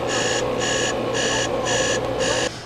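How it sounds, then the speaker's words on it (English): A phone alarm going off at full volume, a loud, harsh electronic beeping in five even pulses that stops abruptly at the end. "I had an alarm set off for 4 o'clock, but it started going off and the volume was all the way up."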